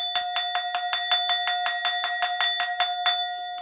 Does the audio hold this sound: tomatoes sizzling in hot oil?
no